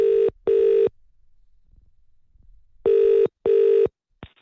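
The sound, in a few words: telephone ringing while placing a phone call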